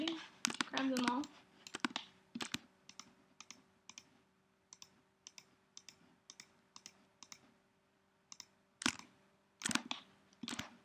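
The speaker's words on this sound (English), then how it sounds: "I'm just holding down the Shift key and clicking to select more than one tooth at a time" A computer mouse clicks repeatedly while the Shift key is held, crisp close clicks at a fairly steady pace, with a few louder bursts and someone speaking briefly at the start and end.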